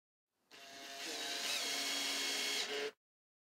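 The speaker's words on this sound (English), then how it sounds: "fasten the track in place with a screw" A power drill drives a screw to fasten a retractable screen track at a double French door, a single steady whir lasting about two and a half seconds, close and fairly quiet, with a sharp start and stop.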